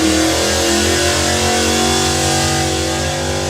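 A drag racing car at a power festival accelerates hard, its engine roaring loud and close in one sustained, even blast of revs for several seconds, with no voices over it.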